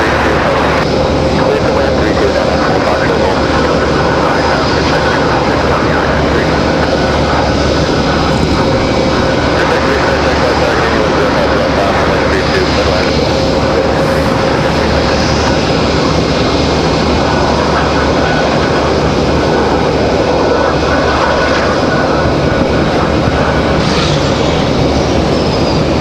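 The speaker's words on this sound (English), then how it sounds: "There's our ATR 600." ATR 600 turboprop airliner passing at Raleigh-Durham International Airport, a loud, steady engine roar filling the whole stretch with a faint tonal whine, while voices talk intermittently underneath.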